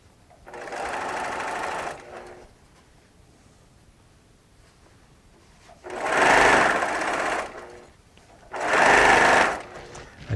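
A sewing machine stitches a Tula Pink quilt in three loud bursts of running, the first about two seconds long and the next two slightly shorter, with quiet pauses between them.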